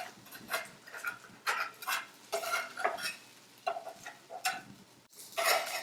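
A utensil scrapes and pushes branzino around a hot pan, a series of close rhythmic scraping strokes over a soft sizzle, with occasional light clinks.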